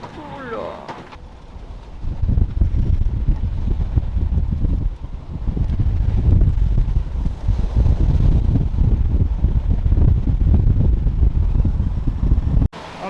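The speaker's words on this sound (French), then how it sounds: "alors il y a beaucoup de vent" Strong wind roars and buffets the microphone aboard a sailboat heeled hard over near the point of Saint-Vincent, a loud continuous rush with a brief voice at the start.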